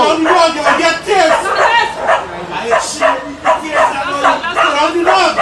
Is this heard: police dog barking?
yes